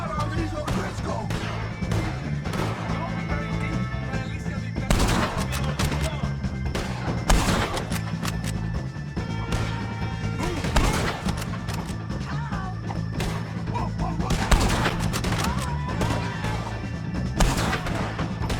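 Gunfire in a Red Dead Redemption 2 shootout with O'Driscoll gang members: repeated sharp shots and heavier booms burst throughout at an uneven pace, loud and dense, over a steady low rumble.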